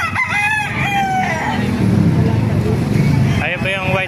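Gamefowl roosters crow nearby, one strong crow early and another near the end, while someone talks over them and a faint hum of traffic runs underneath.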